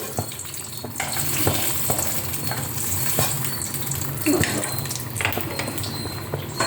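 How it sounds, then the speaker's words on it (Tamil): Mustard seeds and urad dal crackle and sizzle in hot coconut oil in a South Indian kitchen, a steady loud frying hiss with sharp pops throughout. "தேங்காய் எண்ணெயில் கடுகும் உளுத்தம் பருப்பும் தாளித்து கொட்டியிருக்கேன் பொரிச்ச கூட்டுக்கு."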